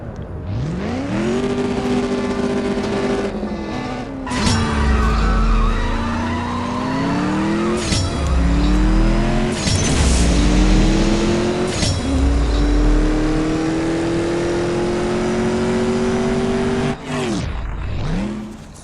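Race car in the mobile game CSR Racing 2, likely a Mustang, accelerating hard. The engine note climbs in repeated rising sweeps with sharp drops at each gear shift, loud and close, ending in a final rev and cut.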